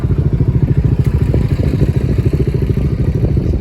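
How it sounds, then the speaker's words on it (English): A Ducati Monster motorcycle with twin exhaust pipes rumbles close by, its engine giving a steady, loud, throbbing beat with a slightly clattery edge, and no voices over it. "That must be a Ducati Monster then."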